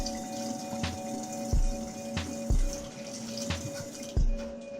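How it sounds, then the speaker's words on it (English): Tap water runs steadily into a sink while potatoes are rinsed, with repeated soft thuds and knocks of the potatoes against the basin at a close, moderate level. "we're going to go ahead and rinse these potatoes off real good."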